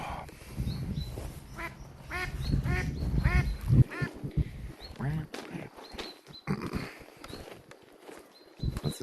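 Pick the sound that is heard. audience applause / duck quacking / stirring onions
duck quacking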